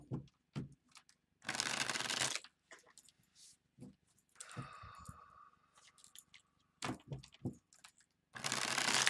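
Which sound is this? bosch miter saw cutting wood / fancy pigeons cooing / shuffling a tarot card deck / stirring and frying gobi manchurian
shuffling a tarot card deck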